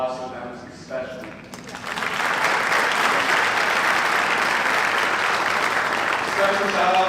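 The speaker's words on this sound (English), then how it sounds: "So I would like to do a round of applause for them especially." Audience applause at a 2025 Bulls Racing unveil livestream at The Motor Enclave: after a spoken line, a broad sustained round of clapping swells and holds, dense and fairly close.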